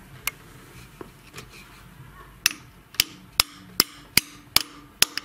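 A hammer drives an oil seal into place through a press mandrel in a garage: a series of about ten sharp, close metallic strikes, sparse at first and then falling into a steady, quickening rhythm.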